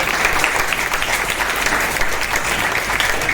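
An audience at a free school notebook giveaway for students claps in sustained, loud, dense applause that keeps a steady level for the whole stretch, with no speech over it.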